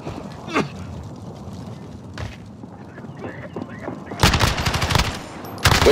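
Gunfire from a video game gun with limited ammunition: sharp bursts of shots near the end, after quieter game sounds with faint talk in the background.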